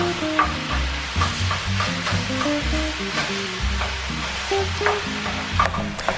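Ground beef and sausage with vegetables for a lasagna sizzle steadily in a pan while being stirred and broken up with a fork, giving repeated scraping and clinking over the constant crackle.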